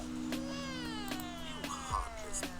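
An upset cat meows repeatedly in drawn-out, wavering cries over a steady background hum, the calls close and fairly loud.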